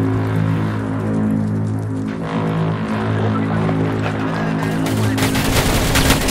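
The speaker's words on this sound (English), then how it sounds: "I'm just gonna shoot." Gunfire in the Roblox game Dummies vs Noobs, a steady dense clatter of shots with a low droning hum beneath, loud and continuous throughout, swelling into a sharper burst of rapid fire near the end.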